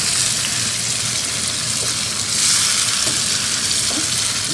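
Tamarind juice is stirred into a hot sizzling pan, giving a steady loud frying hiss throughout with faint scraping stirs mixed in.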